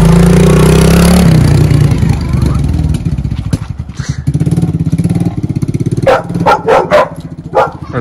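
Dogs bark in a quick series of sharp woofs near the end, after a loud engine rumble fades at the start.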